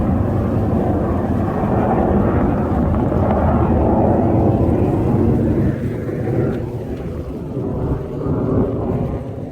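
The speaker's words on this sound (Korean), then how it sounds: "강릉항 가까운 곳에는 이렇게 에, 비행장이 있어갖고 비행기들이 시끄럽게 날아가고는 합니다" An aircraft flies over from an airfield near Gangneung harbor, a loud sustained roar that holds steady and then slowly fades as it passes into the distance.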